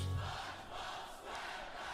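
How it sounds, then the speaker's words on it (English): Loud crowd roaring and cheering in a played anime opening performance, a dense continuous wash of many voices at a steady level, alone without talk. "How loud the crowd is."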